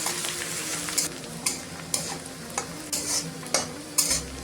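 Onion and garlic fry in a pan while being stirred, a constant sizzle punctuated by regular scraping strokes of a spatula roughly every half second, close with no talking.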